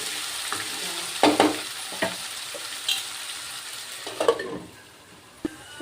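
Tomatoes cook in oil in a pan, a low continuous sizzle with a few scattered scrapes and knocks, growing quieter near the end with one final sharp tap.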